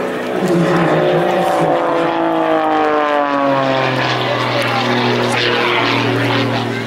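A propeller aerobatic aircraft flying a display at an air show drones loudly and steadily throughout, its engine note sliding down in pitch as it passes, with no talk over it.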